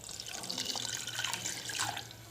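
About a cup of water poured into a pan holding 250 grams of jaggery on the stove, a short steady splashing pour, soft and close, with no voices.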